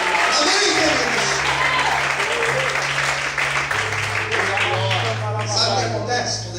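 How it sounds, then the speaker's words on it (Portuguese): A church congregation applauding during a Portuguese-language sermon, dense sustained clapping filling the room, loud and steady, with a low musical tone underneath and voices mixed in. "Todos podem aplaudir a nome de Deus."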